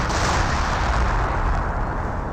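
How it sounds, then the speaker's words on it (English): Priest self-propelled artillery barrage in Company of Heroes: a continuous, dense rumble of shelling and explosions, loud and sustained without pauses, no voices. "Now got a priest barrage onto this VP"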